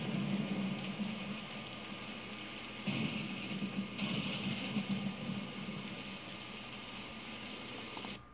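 Steady rain hiss in the space strategy game Imperium Galactica II, a dense, even patter holding constant throughout with slight swells in intensity midway, no voices over it.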